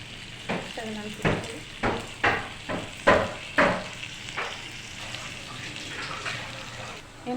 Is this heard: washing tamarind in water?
yes